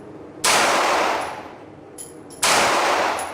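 Two sharp, loud bursts from a Girsan MC16 pistol on a shooting range, about two seconds apart, each a broadband blast with a decaying tail.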